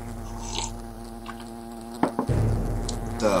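Giant wasps in Fable Anniversary drone with a steady buzzing hum, joined by a few sharp game impacts partway through; no voices.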